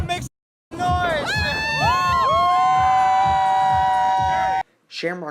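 A crowd at Shamrockfest 2019 cheers, shouts and whistles over loud, pulsing festival music. The roar stays steady for several seconds, then cuts off sharply and a voice follows.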